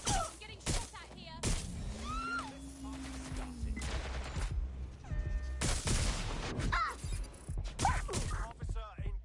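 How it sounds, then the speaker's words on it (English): Bursts of gunfire in the video game Watch Dogs: Legion, with dense volleys and rapid shots mixed with other game noise and a voice talking over the action. "I'm getting shot at here."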